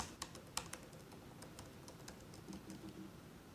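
A new 2018 13-inch MacBook Pro with Touch Bar is typed on, giving soft, faint key taps in short uneven bursts close by, quieter than a typical keyboard, with no talking.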